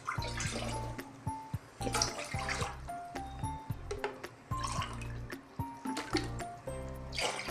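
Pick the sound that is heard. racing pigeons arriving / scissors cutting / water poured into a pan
water poured into a pan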